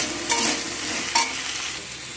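Vegetables with a little salt frying in oil, a steady sizzle with two brief scraping stirs of a spoon in the pan, close and moderately loud with no voices.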